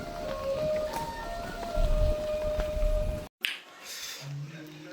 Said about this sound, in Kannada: ಇವಾಗ ಜೋರ ಆಯಿತು ಗಾಯ್ಸ್ ಮಳೆ